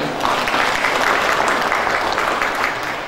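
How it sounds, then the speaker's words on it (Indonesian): A crowd at the inauguration of Masjid Abu Bakar Ash Shiddiq and the Al-Aufi Quran school in Magetan claps loudly and evenly, a dense sustained round of applause lasting about three seconds. "Boleh tepuk tangan buat Al-Aufi."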